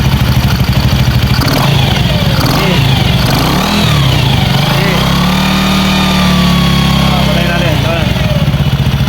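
A motorcycle engine being repaired revs loudly and steadily up close, its pitch rising and falling over a rough idle, while people talk over it.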